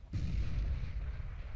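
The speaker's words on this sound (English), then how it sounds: "Grenade out." A grenade explosion in the Counter-Strike video game, a sudden loud blast with a deep rumbling tail that lasts over a second, heard alone without voices.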